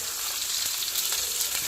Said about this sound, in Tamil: அதை கிண்டி விடு வெங்காயத்தை. நல்லா கிளறு.